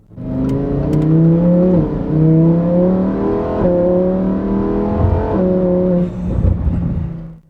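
A Lamborghini Huracán engine pulls hard under acceleration, its loud tone climbing in pitch through several gears with brief drops at each upshift, close and dominant throughout.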